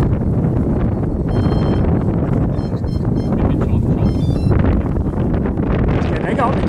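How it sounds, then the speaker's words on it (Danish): Strong outdoor wind buffets the microphone in a constant loud roar with gusty surges, and a voice seems to be talking faintly beneath it. "Vinden falder om en halv time."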